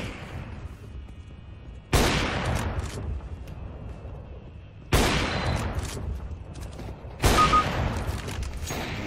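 Gunfire in a multiplayer shooter video game: three loud, sudden bursts of sustained fire, each starting sharply and trailing off into a rumbling din, with quiet gaps between them and no voices.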